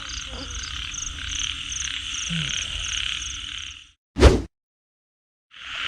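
Large frogs with bellies full of eggs croak in rice fields during heavy rain, a dense steady chorus of rhythmic calls that cuts out abruptly, followed by a sharp splash and the chorus returning.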